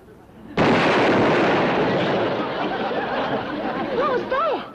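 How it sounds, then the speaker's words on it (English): A sudden loud boom like a cannon shot bursts out, followed by a long rumbling decay with faint voices underneath. "Sounded like a cannon."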